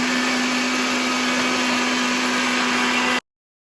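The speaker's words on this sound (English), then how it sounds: "I'm done blending my ingredients" A blender runs at full power on jollof rice ingredients with dried shrimps, giving a loud, steady whirring drone with a constant motor hum that cuts off abruptly near the end.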